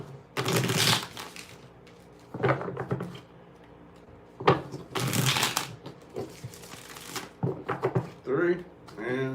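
Tarot cards are shuffled in several separate bursts of riffling and crisp slapping, close and fairly loud, with short quieter gaps between them and a voice speaking briefly at the end.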